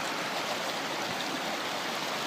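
A creek runs beneath a hiking bridge up a hillside in a park, its steady even rush of water close and constant with no voices.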